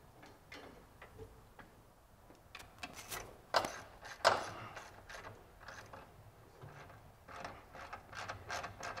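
Clicking ratchet tightening a bolt under a 2005 Chevy Tahoe during charcoal canister vent repair, a run of soft close ticks with two sharper clicks midway over faint background noise.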